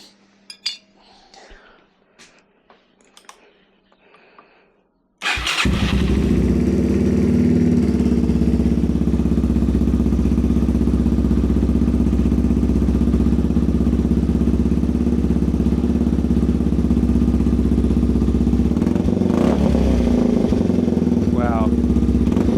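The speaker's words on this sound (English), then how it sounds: "let's listen to it without the quieter insert. Take it out. It's really simple. It's one bolt, comes out." A few quiet clinks in near silence precede a Yamaha TW200 motorcycle with a Bradley exhaust, quiet insert removed, bursting into life and settling into a loud, steady, throaty idle that continues to the end.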